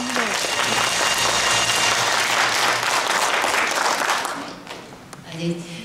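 An audience at the opening ceremony of the 29th Hongseong county residents' sharing festival in November 2022 applauds loudly and steadily, then the clapping fades away while a voice starts to speak.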